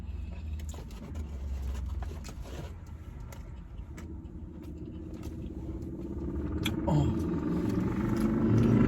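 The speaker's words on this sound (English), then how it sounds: "2 Harley Davidsons." Two Harley-Davidson motorcycles go by in a car park, a low engine rumble that builds steadily and grows louder toward the end as they draw closer.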